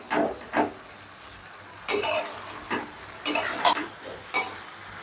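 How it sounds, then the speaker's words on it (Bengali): Soaked basmati rice tossed with vegetables in a pan, heard as a series of scraping stirs and clinks of a spatula against metal, separated by short quiet gaps, with a light sizzle underneath. "এবার চালটাকেও সবজির সঙ্গে ধরো 2 মিনিটের মতন আমি আবার ভাজা ভাজা করে নেব।"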